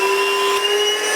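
A Milwaukee surface grinder fitted with a HERZO dust shroud runs with a steady, loud whine that holds an even pitch through the brief moment, alone with no talk.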